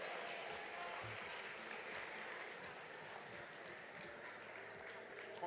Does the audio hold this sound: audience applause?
yes